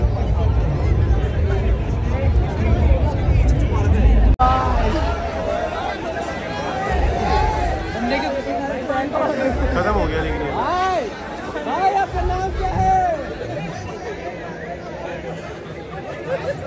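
Students at the Moksha college fest at NSUT fill the space with a loud, dense babble of overlapping chatter that runs continuously, with voices close by and a crowd behind them.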